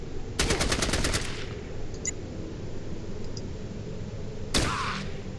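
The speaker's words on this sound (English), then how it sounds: "Rebecca, burst fire" A gun in Fallout Tactics fires one rapid burst of shots, loud and close, followed by quiet and a second short crack near the end.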